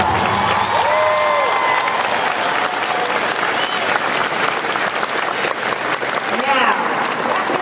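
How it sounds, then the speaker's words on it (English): Sustained applause from a large commencement audience fills the space, dense and steady with cheers and crowd noise throughout. "Give them a round of applause."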